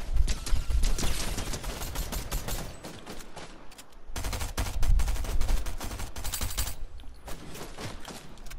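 Rapid pistol fire in Fortnite crackles in dense bursts, loud and close, with a brief lull in the middle before another sustained volley.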